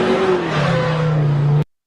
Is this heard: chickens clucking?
no